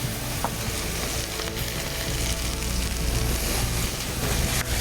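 Scallops searing in a hot pan give off a steady, dense sizzle that crackles evenly throughout, close and fairly loud, with no voices.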